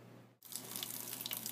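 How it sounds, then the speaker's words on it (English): Hot tap water gushes steadily from a faucet after a brief gap, filling a sink with a continuous broadband rush, close and fairly loud, in a lab setting. "let the water run from the faucet for a few minutes"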